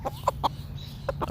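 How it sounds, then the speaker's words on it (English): A chicken named Mr. Stormy, grazing on clover, clucks in short, sharp bursts: four or five quick clucks in an uneven rhythm, close by and fairly loud, with no talking. "Oh, cluck, cluck, cluck goes Mr."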